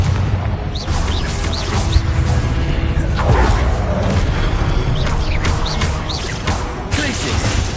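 A Confringo blasting spell explodes in the video game Hogwarts Legacy, one of several booming bursts with whooshing energy over a dense, loud game soundscape of clashing spell effects.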